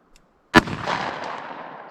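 A single sharp gunshot from a .44 Special firing a Speer Gold Dot 200 grain jacketed hollow point round, loud and close, with a long rolling echo that fades over the following second and a half.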